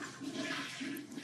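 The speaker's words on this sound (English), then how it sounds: "It always bugged me that I flushed the toilet" A toilet flushing in a scene from the 2016 Deadpool film, a brief rushing gush of water heard close and alone, with no talk over it.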